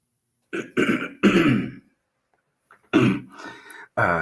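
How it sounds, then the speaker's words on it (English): Several gruff throat-clearing bursts close up, in uneven clusters separated by short silences. "let me clear my throat"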